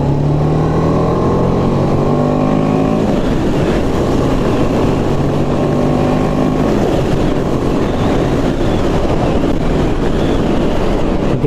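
A 2022 BMW G 310 GS adventure motorcycle, rated at 34 PS, pulls through the mid-range in third gear, its engine note climbing in rising sweeps and then settling into a loud, continuous roar with no talking.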